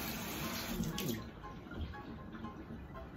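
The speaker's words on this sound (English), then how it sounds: "Wash your hands." Running tap water splashing steadily into a sink while hands are washed, a continuous broadband wash with brief murmurs of voices in the background.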